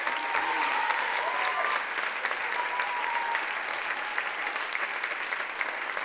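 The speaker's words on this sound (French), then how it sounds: "on peut les applaudir très fort" An audience applauds choir singers at a live rock opera show, with sustained, dense clapping close by and a couple of drawn-out whistles cutting through early on.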